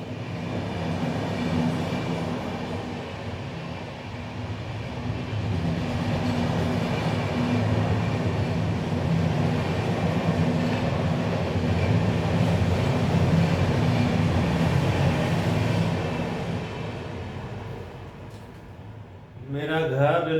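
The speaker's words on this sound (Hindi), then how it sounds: "मेरा घर रेल पटरी के बगल में है, दिन रात ट्रेनें आते जाते रहता है।" A train rumbles past on a railway track beside a house, a steady roar lasting about twenty seconds that eases off near the end. Faint wheel clatter runs under the roar.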